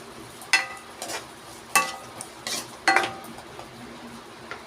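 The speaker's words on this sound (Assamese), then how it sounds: "আৰু অকণমান সময় এইদৰে মই লৰাই ল'ম।" Paneer being stirred in a cooking pan, a spoon scraping and clinking against the metal in a few separate strokes over a quiet background.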